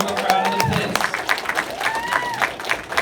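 A comedy club crowd at Funny Bone Albany claps and cheers, a dense continuous applause with a voice talking over it.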